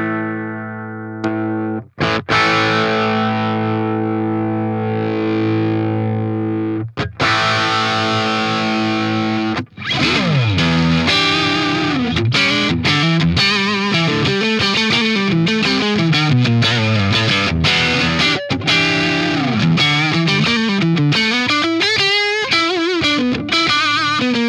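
Electric guitar played through Neural DSP Archetype Nolly, starting with sustained clean chords and then switching to a thick overdriven tone with rapid riffs and shifting melodic lines, loud and continuous with no talking.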